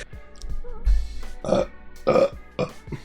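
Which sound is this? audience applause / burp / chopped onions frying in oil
burp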